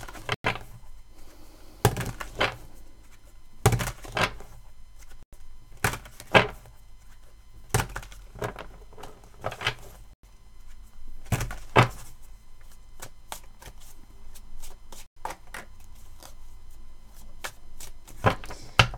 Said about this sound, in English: Let's just give this a proper good shuffle and focus on the question.